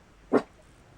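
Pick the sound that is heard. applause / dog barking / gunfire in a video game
dog barking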